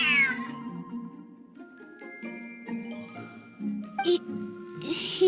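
A cat meows in a Genshin Impact cutscene: a single short meow at the start, then music and faint tinkling carry on with no further clear cries.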